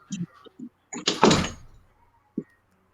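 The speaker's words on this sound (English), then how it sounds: "And then go in the bathroom and close that door." A bathroom door is pushed shut with one loud, brief sliding thud. A few short voice fragments come just before it and one comes after, in an otherwise quiet room.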